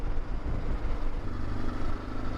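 A group of motorcycles rides along a road on a tour from Lublin to Sandomierz, giving a steady low engine rumble mixed with wind noise at moderate distance.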